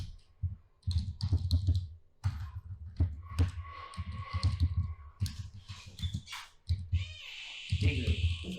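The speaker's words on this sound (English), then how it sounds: "type the expression" Keys clatter on a computer keyboard in short bursts of light, quick typing, close and fairly quiet, interleaved with someone talking throughout.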